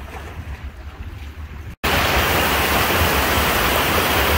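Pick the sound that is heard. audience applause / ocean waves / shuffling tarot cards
ocean waves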